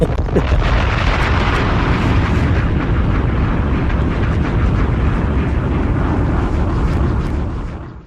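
A bomb explosion sound effect roars loud and dense for several seconds, a sustained rumbling blast that fades out sharply at the end with no voices.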